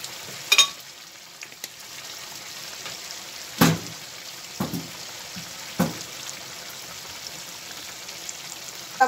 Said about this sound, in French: Vous laissez fondre le beurre.